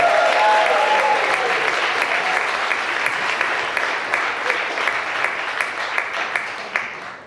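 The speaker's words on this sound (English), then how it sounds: "Big round of applause for our committee." A ceremony audience gives the organising committee a big round of applause at the Cutting It Fine 2025 event; dense, loud clapping from many hands fills the room without pause, easing slightly toward the end.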